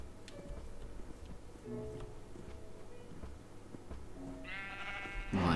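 Sheep bleats from a Minecraft game world, short low calls scattered among game sounds at moderate level, ending in a louder burst of in-game noise.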